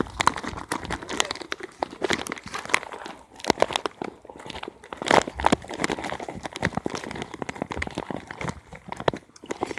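Doritos chips are eaten up close, with a dense run of crisp crunches and the crinkling of the bag through the whole stretch, uneven in rhythm and fairly quiet.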